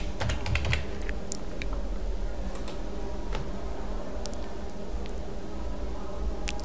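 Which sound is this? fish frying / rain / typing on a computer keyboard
typing on a computer keyboard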